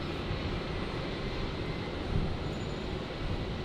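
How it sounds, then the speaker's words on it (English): A Qantas Airbus A330-200 jet bound for LAX starts its night takeoff roll at Brisbane International Airport, a steady, dense engine roar that holds at constant loudness throughout, with no voices. "The 330-200 heading to LAX, just beginning its roll"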